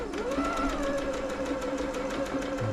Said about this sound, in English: we'll start off with a simple straight stitch